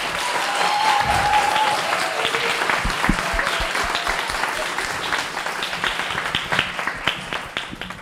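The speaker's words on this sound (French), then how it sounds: "je pense qu'ils méritent encore un tonnerre d'applaudissements" A large crowd at the Prix Jules Favre 2024 selections applauds loudly and continuously, dense clapping with a few cheers, filling the room from start to finish.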